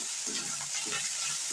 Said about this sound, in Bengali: যখন তেলের সাথে আমার আদা রসুন বাটাটা ভালোভাবে মিক্স করা হয়ে যাবে এবং ভাজা ভাজা হচ্ছে